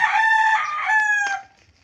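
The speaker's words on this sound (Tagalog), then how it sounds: "pasensya na kayo sa manok" A rooster crows once, loud and close, a single drawn-out call that fades at the end.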